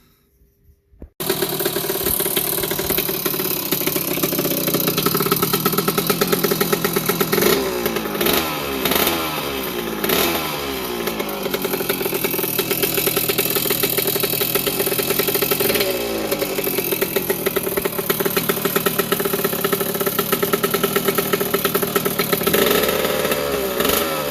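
A 1981 Yamaha YZ80H motorcycle's small two-stroke engine starts and runs loudly nearby, idling with a rapid clattery buzz and blipping its revs up and down several times.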